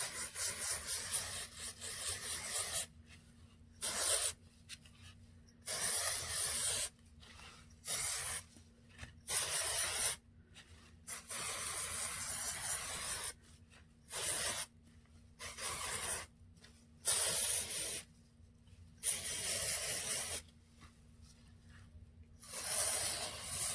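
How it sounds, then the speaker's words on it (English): Dry shampoo from an aerosol can sprayed over a wig, heard as a series of short, close hissing bursts separated by brief pauses, with no talking. "Now we're going to go ahead and spray our dry shampoo all over just to dim down the shine."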